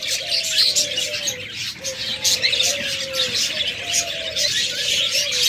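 Pair of rainbow lovebirds for sale, chirping steadily in a busy aviary with many birds, repeated bright tweets and calls layered over a constant chatter of other birds, close and fairly loud throughout.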